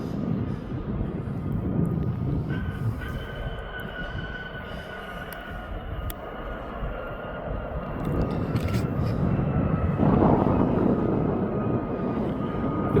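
Airliner coming in to land at Birmingham Airport, heard as a broad jet roar that holds steady and then swells louder near the end, with people talking over it.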